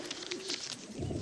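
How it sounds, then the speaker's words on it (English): An English carrier pigeon gives soft, low repeated coos close by, with rustling and background noise in a wartime battlefield setting. "This is a good little English carrier pigeon."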